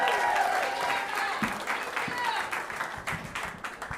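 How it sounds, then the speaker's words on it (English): Applause from a comedy club crowd greets a stand-up comedian, moderately loud clapping that tapers unevenly over a few seconds. "Clap it up for Myka."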